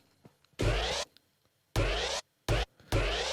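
A cymbal sample processed in Ableton Live with automated transpose, heard as four loud, sharp-edged bursts of bright noise with a shifting, pitch-bent sheen, separated by near silence.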